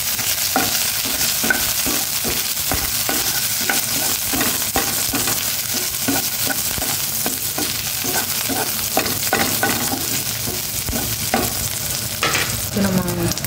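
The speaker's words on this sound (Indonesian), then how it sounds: "ngayon naman magigisa na ko ng bawang, sibuyas, tsaka tomato para sa dilis." Garlic, onion and tomato sautéed in a pan for an anchovy dish crackle with a steady sizzle under a regular rhythm of spatula strokes scraping the pan, close and fairly loud throughout.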